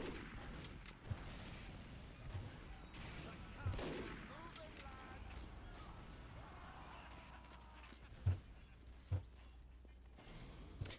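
Gunfire in the video game Team Fortress 2 is quiet and distant, with a few sharp shots scattered over a busy, low game background.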